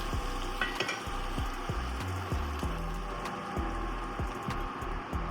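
A veggie omelette sizzles in a covered pan, a steady close hiss of frying with small crackles and soft low ticks running the whole time, no voices.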